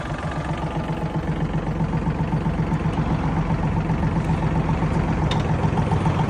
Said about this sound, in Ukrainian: Бачите, як гарненько працює. О, бачите, і фреза вже крутиться.